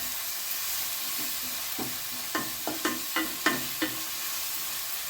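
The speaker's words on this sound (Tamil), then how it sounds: "போட்டு அதையும் நல்லா வதக்கிக்கிடுவோம்." Coriander sautéing in a pan for seeraga samba vegetable biryani, a steady sizzling hiss with a handful of sharp stirring scrapes and clicks spaced about half a second apart, fairly close and with no voices.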